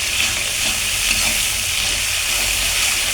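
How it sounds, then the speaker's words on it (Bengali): Spice masala of red chilli powder, turmeric, garam masala and salt frying in a pan, a constant loud sizzle with hiss, heard alone without talk. "দিয়ে আমি মশলাটাকে কষায় নেব ভালো করে"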